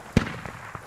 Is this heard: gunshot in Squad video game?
yes